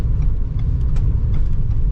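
A 2022 Ford Bronco Sport Badlands driving over road bumps, heard from inside as a steady, loud low rumble of road and engine noise with faint thumps.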